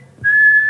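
A person whistles a single clear, sustained note lasting about half a second, loud and close, with no one talking.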